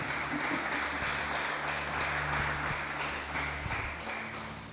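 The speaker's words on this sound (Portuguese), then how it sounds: "Dá uma salva de palmas para Jesus aí" A church congregation claps during a worship service, a steady wash of many hands with a soft rhythmic pulse, moderately distant, under a low sustained instrumental hum that fades slightly toward the end.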